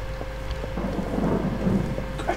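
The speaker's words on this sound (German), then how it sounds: "Alter, das ist richtig Gewitter gerade" Thunderstorm in the MineClone2 game world, a steady wash of rain with a low rolling rumble of thunder swelling through the middle, loud and continuous with no talk.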